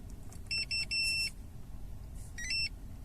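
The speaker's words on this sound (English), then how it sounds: "bleep to confirm that the code is correct" A Starline i96v2 immobiliser in a 2016 VW Passat sounds short, high electronic bleeps: a quick group of three, then a single bleep a second later, over a quiet background hum from inside the car.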